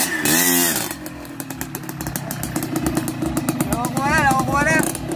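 A Yamaha DT motorcycle engine runs close and loud with a buzzing two-stroke rattle and rising revs, while people talk over it.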